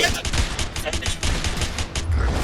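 Dense automatic gunfire in the video game A Way Out, loud rapid bursts of shots running continuously throughout the clip.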